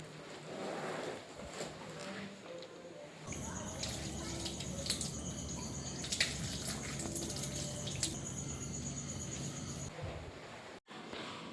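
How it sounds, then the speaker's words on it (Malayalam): A water pipe is opened at night and quiet indoor stillness gives way to a continuous soft rush of running water that carries on until near the end, fairly faint and with no clear speech. "പൈപ്പ് തുറന്നു വിടുന്ന സൗണ്ടും എല്ലാം കേട്ടോ"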